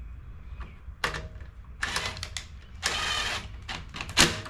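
Metal clicks and scraping of a fastener being loosened with a hand tool while servicing a Toro 22 inch Recycler lawn mower that sat in storage for ten years, a series of close, short mechanical bursts.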